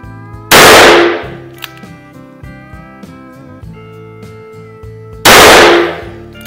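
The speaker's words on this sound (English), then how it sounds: "I'm gonna shoot one more cylinder of wadcutters while we're on camera here." Two loud, sharp reports from a Dan Wesson 15-2V .357 Magnum revolver firing wadcutter loads, each a close, cracking blast with a ringing decay, about five seconds apart over steady background music.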